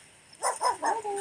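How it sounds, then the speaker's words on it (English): A dog barks a few times in quick succession, yipping calls at moderate distance during an outdoor morning gathering at a stupa, with no talk over it. "I don't like the dogs."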